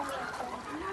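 Chickens cluck among a household flock kept alongside flying ducks, steady and fairly close, mixed with someone talking over them throughout.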